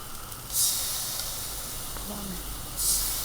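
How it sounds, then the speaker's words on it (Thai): Tamarind water hits a hot frying pan of fried aromatics in a home kitchen, setting off two short, bright bursts of hissing sizzle with a softer steady frying hiss between them. "เอาน้ำมะขามเปียกใส่ สักสองช้อนนะคะ"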